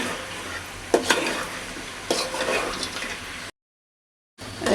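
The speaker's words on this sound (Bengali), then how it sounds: "তারপরে ভালোভাবে এভাবে নেড়ে চেড়ে দেবেন যেন মশলাটা নিচে না লেগে যায়।" A spoon stirs chicken and papaya curry with potatoes in a pan, scraping and sizzling steadily with a few louder scrapes, then a brief silence before the stirring resumes.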